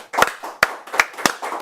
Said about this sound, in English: Good job. Let's clap.